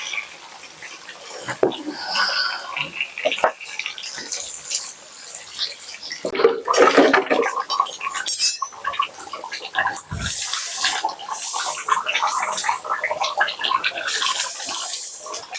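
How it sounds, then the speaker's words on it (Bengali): Water poured into a pot of simmering chicken curry, a splashing, gurgling pour with bubbling and clatter that grows fuller and louder toward the end. "এবার আমি মাংসের মধ্যে জল দিয়ে দেবো"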